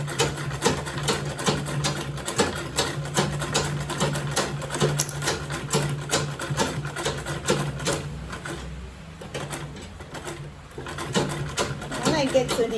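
A sewing machine runs steadily while top stitching a make-up bag with a zipper and lining, a rapid mechanical chatter close by that slows and pauses briefly near the end, with a voice talking over it.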